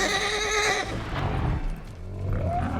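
A horse in the film Star Trek V lets out a loud, close whinny that rises and then falls away, with soft hoof-like thuds and low rumble following it.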